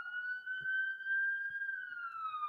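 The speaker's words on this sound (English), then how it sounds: "Can you hear that siren?" A passing emergency vehicle siren wails steadily and loudly, one sustained tone slowly bending in pitch throughout, with no talk over it.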